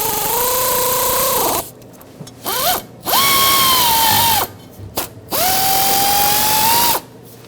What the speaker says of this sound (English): Now go ahead and start these 3 screws in.